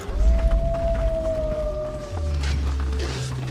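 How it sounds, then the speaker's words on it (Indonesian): A long, wavering wolf howl from a movie scene, rising and holding steady before trailing off, heard over low rumbling background noise with a deeper tone following. "suara lolongan serigala kembali terdengar"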